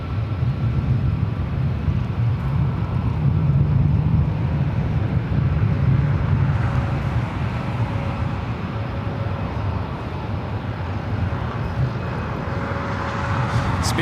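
A Delta Airlines Airbus A321neo arriving at LAX from Atlanta gives a steady, broadband jet roar that stays loud and fairly constant throughout, with no talk over it.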